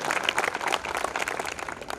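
Audience at a coaching institute event, ALLEN Classes, claps enthusiastically, a close, crisp patter of many hands with uneven bursts and no speech over it.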